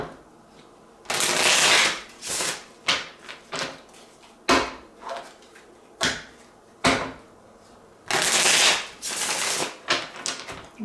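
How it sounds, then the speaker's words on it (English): A deck of tarot cards is shuffled by hand in repeated bursts of riffling and flicking, loud and close, with quieter pauses and taps between each shuffle. "I love shuffling this deck."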